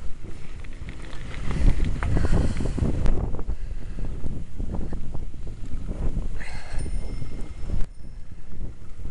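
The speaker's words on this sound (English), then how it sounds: "Everywhere I've gone today, I've had the wind against me." Gusting wind buffets a cyclist's camera microphone on a bumpy ride along a river and moorland, producing loud, continuous low rumbling and flapping bursts with no talk.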